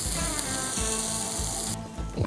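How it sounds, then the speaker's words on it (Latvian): Chicken skewers sizzle on a grill in a continuous, crackling frying hiss with soft rhythmic scraping beneath it. The sound is close and moderately loud, and no one speaks. "Varētu arī beigt cept."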